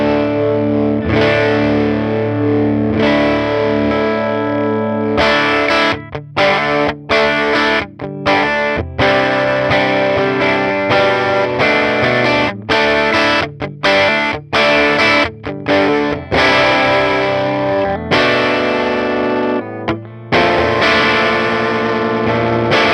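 An overdriven electric guitar plays through a Universal Audio amp pedal, with gritty distorted chords and riffs sounding loud and continuous, broken by brief choppy pauses.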